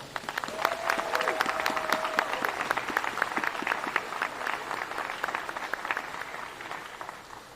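A crowd applauds the Big East champion team at a key-to-the-city ceremony, with sustained, vigorous clapping from many people and sharp individual claps standing out, a faint whistle or cheer rising briefly early on.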